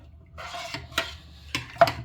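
A spoon scrapes and knocks around inside a pot of cornmeal porridge, with a few sharper clinks between soft stirring sounds, close by.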